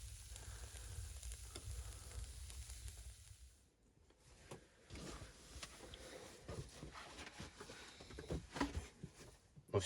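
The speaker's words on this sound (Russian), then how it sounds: "Пожарим их на сковородке" Turkey steaks sizzle steadily in a hot pan outdoors, a dense crackling hiss that briefly quiets, then returns with pops and spatters and occasional clinks.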